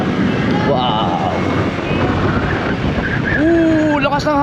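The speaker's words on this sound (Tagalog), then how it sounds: "Lakas ng hangin. Ang lamig pa." Strong cold wind buffets the microphone at a scenic hilltop lookout, a loud steady roar of rumbling gusts, with a voice briefly heard under it.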